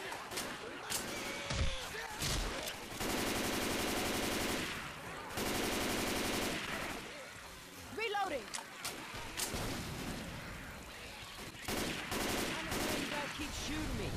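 Automatic gunfire rattles in Left 4 Dead 2 co-op play, with several sustained bursts of rapid shots broken by short gaps and scattered impacts and game noises.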